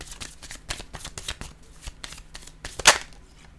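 A deck of cards, pink tarot-style cards, being handled and shuffled close up, a steady stream of soft riffling flicks ending in one sharp, louder snap.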